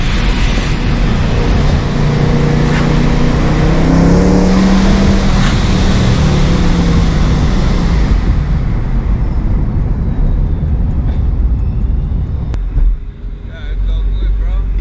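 Supercharged Ford Mustang spinning its tires on a late-night Fourth of July drive, a loud sustained engine roar and wheelspin with wind buffeting for about eight seconds before easing off, with voices mixed in.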